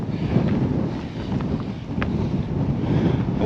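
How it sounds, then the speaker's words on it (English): Heavy wind buffets a GoPro microphone outdoors near sea cliffs, a loud continuous low rumble with gusty swells throughout and no talk. "Every time I come out with my GoPro, we hit heavy wind."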